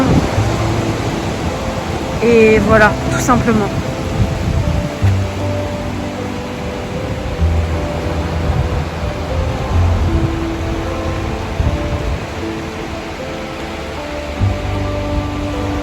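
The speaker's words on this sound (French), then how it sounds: "Là juste tu t'écoutes les vagues" Steady broadband wash of ocean waves rolling in, with a brief spoken remark and a short whistling sound early on.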